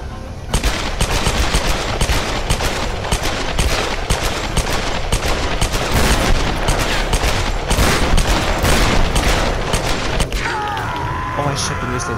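Dual pistols fire in the video game Tomb Raider as a long, loud stream of rapid, sharp shots that run almost unbroken for about ten seconds and end in a ringing tail.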